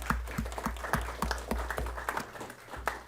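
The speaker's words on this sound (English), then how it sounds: "another round of applause for those guys" A modest round of applause at a city council meeting, honoring organizers of a Fourth of July race: steady, fairly distant claps from a small group, rhythmic and thin, with no voices over them.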